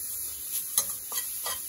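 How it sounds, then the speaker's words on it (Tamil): Grated coconut stirred and sautéed in a pan for a Tamil suzhiyam filling, a steady soft sizzle with a few scraping stirs of the spoon, close and alone. "ஒரு அரை மணி தேங்காய் துருவி வச்சிருக்கேன், அதை போட்டு வதக்கிப்போம்."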